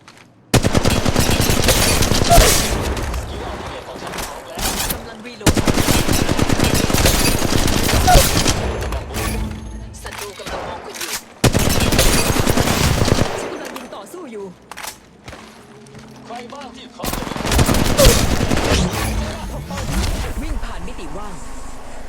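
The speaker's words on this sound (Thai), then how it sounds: "ฉันกำลังยิงต่อสู้อยู่" Rapid automatic gunfire crackles in an Apex Legends Mobile firefight, coming in four long, loud bursts separated by brief pauses, with a voice talking between them.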